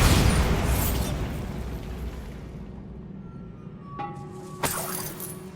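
A Bombarda blasting spell exploding in Hogwarts Legacy, a loud booming blast that rumbles and fades over several seconds, followed by a couple of sharp debris clinks and crackles.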